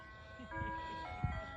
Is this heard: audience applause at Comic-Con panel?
no